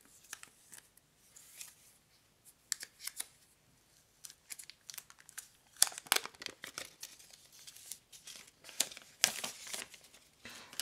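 Crinkling and rustling of Realme 7 Pro phone packaging during an unboxing, with crisp close-up crackles and scrapes in uneven bursts, louder toward the end, with no talking.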